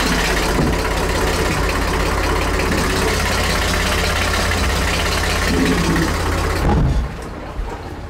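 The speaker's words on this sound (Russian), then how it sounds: "Слышите, двигатель тарахтит" A cabin cruiser's boat engine idles with a loud, steady rattling drone that runs unbroken for about seven seconds, then drops sharply to a quieter hum near the end.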